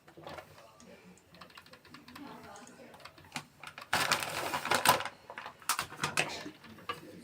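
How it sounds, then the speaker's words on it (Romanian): A knife cuts through a crispy plum and walnut tart with plum jam, giving crackly, crunchy slicing bursts that grow louder midway, with a person talking over the early part. "Haideți și tăiem. Foarte crocantă e."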